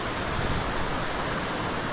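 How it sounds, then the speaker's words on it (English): Steady, loud rush of a roadside waterfall in Alaska, a dense continuous roar with no voices and no breaks. "a nice little unexpected waterfall stop"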